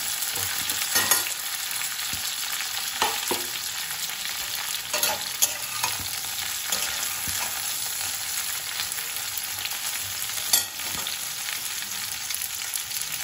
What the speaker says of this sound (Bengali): দিয়ে ভালো করে আমি বেগুনটাকে পেঁয়াজের সাথে মিক্স করে দেবো।